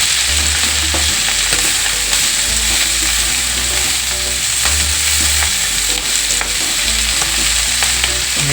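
Fenugreek leaves and onion stirred in a pan over a high flame give a loud, steady sizzle, with scraping stir strokes throughout and no talking.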